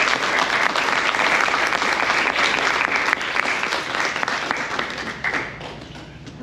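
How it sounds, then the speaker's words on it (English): Round of applause at a Republican club school board candidate forum, a thick, continuous burst of many people clapping, steady and close for several seconds before easing off toward the end. "Let's give them a round of applause"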